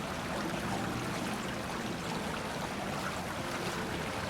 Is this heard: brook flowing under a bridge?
yes